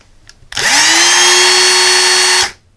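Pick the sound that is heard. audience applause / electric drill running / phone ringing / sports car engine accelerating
electric drill running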